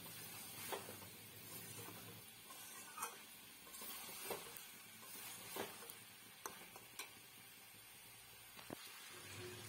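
Boiled raw jackfruit stir-fried in a pan, soft continuous sizzling broken by a few scraping strokes of a spatula at intervals, close and quiet.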